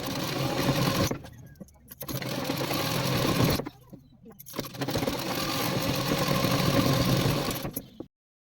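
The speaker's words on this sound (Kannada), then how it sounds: "ಬಟ್ಟೆನ ಈ ಥರ ಉಲ್ಟಾ ಮಾಡ್ಕೊಂಬಿಟ್ಟು ಸ್ಟಿಚ್ ಮಾಡ್ಕೋಬೇಕು." A sewing machine runs in three loud, steady stitching bursts with brief pauses between them, sewing an inside-out cloth cover for a washable pillow made from old pants.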